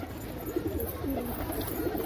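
A racing pigeon coos softly and close, with a low murmuring call over a short stretch and steady background noise.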